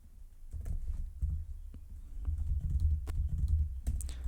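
Code is being typed on a computer keyboard in a Unity 6 tutorial session, with steady, close clicking keystrokes in quick uneven bursts throughout and no talking.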